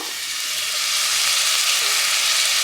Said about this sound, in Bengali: এবার ড্রাই স্পাইসেস বলতে হলুদ গুঁড়ো আর লঙ্কা গুঁড়ো অ্যাড করব